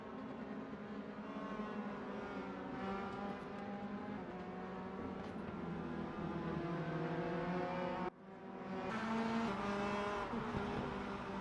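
Race cars in the sim racing game RaceRoom at the Red Bull Ring in Spielberg: steady, high engine drone with shifting pitches as several cars run together, a brief dip near the end before the roar resumes.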